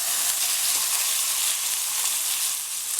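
Chicken pieces fry with a steady, close sizzle in a pan, a faint scrape as they are turned over, with no talking.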